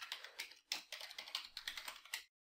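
Quick bursts of typing on a computer keyboard, clicking keys in short irregular runs at close range, quiet and alone, ending abruptly.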